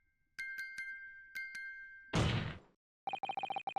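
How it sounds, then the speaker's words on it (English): Chiming tones from a music box in The Great Ace Attorney tap out a Morse code pattern: a few separate bright dings, a short noisy burst, then a quick run of rapid, evenly spaced chimes, with no speech. "Just because this is a music box doesn't necessarily mean the sounds we're hearing are music."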